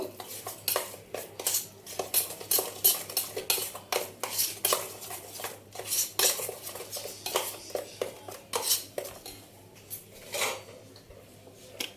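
Eggs being mixed with turmeric and salt in a bowl for Bengali steamed eggs, with a utensil clinking and scraping against the bowl in quick, irregular strokes, close and fairly loud, with no talking.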